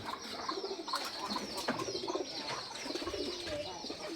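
Pigeons cooing at a village house: soft, repeated low coos from more than one bird, moderately near, with faint chirps and a little rustling mixed in and no talk over them.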